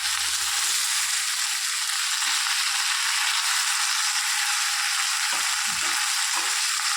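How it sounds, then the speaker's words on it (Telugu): Steady, loud sizzling of cucumber pieces frying in a hot pan, with a few faint scraping stirs partway through. "అవి వేగాయి కదా దోసకాయ ముక్కలు వేసుకున్నాం అందులోనే"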